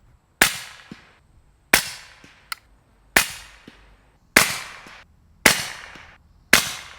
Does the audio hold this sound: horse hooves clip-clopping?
no